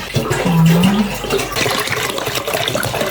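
Water poured or running into a pot for a vegetable preserving brine, a loud continuous splashing gush close to the microphone, with no talk over it.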